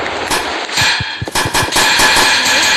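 A color bomb firecracker bursts into a rapid string of sharp, loud cracks and pops close by, over a hissing, crackling spray of sparks.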